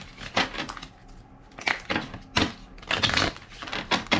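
Playing cards being shuffled in several short, crisp riffling bursts with brief pauses between them, fairly quiet and close, with no talking.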